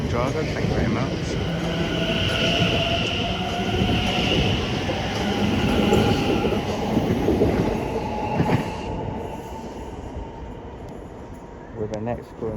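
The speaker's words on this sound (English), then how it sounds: "There she goes off in the distance for London Liverpool Street." A train departs Chelmsford station on the Great Eastern Main Line, bound for London Liverpool Street. Its sustained rolling rumble slowly fades into the distance, with faint wheel squeal and clatter near the end.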